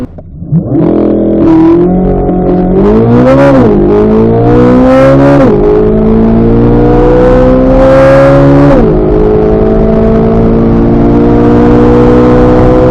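A C8 Corvette Z06 launches hard with launch control, its engine revving up through rising harmonics and shifting gears, loud and close, sustained under heavy acceleration with a brief tire rush at the start.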